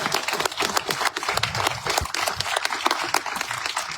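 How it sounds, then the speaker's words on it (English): Audience applause after remarks at a public talk, a steady wash of many hands clapping at moderate volume that fills the whole stretch without pause. "Can we get another round of great applause for them?"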